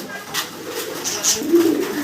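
Soft, low pigeon cooing repeats in gentle murmurs as several pigeons feed close by at a pigeon farm, with some faint rustling in the background.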